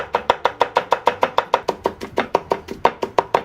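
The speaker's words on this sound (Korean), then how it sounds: "자, 당근 거의 다 잘랐네요 이제" A knife chops sweet Jeju Guja carrots on a cutting board, about twenty crisp, evenly spaced strikes in a fast, steady rhythm, close and clear. No one talks.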